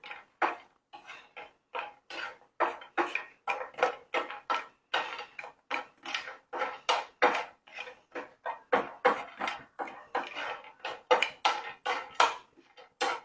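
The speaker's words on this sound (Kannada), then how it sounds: "ಈ ರೀತಿ ಹಿಂಗೆ ಫ್ರೈ ಮಾಡೋಣ" A spatula scrapes and clatters against a pan over and over while food fries, the steady rhythmic strokes close and fairly loud, with no talking.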